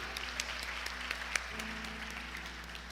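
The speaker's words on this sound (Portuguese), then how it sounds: "Aplauda aí com a sua melhor salva de palmas." A church congregation applauds during a worship service, a steady dense wash of clapping that carries on throughout with no break, heard from within the room.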